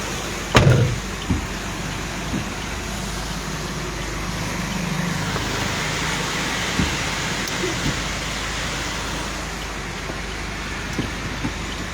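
Heavy rain falls steadily at Bhavnath near Girnar in Junagadh, with low clouds over the hills. The dense wash of rainfall is broad and constant, with a dull thump near the start and faint scattered knocks, and no speech.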